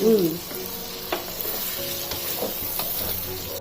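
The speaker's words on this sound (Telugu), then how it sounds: "పచ్చి వాసన పోయేంత వరకు బాగా దాన్ని మరిగించాలి" A mixture cooking in a pan on a stove, bubbling and sizzling steadily with occasional stirring scrapes, close and moderately loud, no voices.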